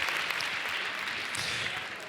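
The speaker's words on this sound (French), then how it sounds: "Les applaudissements pour lui." At the Cannes red carpet steps, a crowd applauds Robert De Niro, a continuous wash of distant clapping with murmur underneath, steady throughout.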